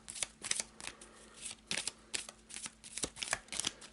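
A deck of game cards being shuffled for a horror-themed tabletop board game, with quick crisp riffles and flutters arriving in several short bursts, close and fairly quiet.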